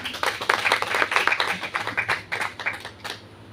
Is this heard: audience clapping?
yes